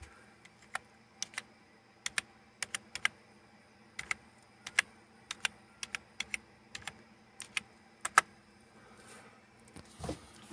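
Someone typing a password on a computer keyboard: a run of sharp, close key clicks at an irregular pace, with a soft thump near the end.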